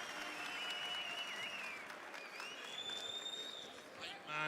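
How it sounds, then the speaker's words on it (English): Esports tournament crowd at a Counter-Strike match applauding and cheering in a large arena, a steady roar of clapping and voices that swells near the end, with shouting over it. "The crowd is so into this."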